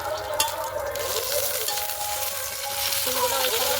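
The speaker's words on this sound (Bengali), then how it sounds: "সিমগুলো ওই সঙ্গে ভালো করে ভেজে নেব।" Flat beans and bitter gourd fry together in a pan for a vegetable dish, giving a steady, close sizzle with a few stirring scrapes and no talk.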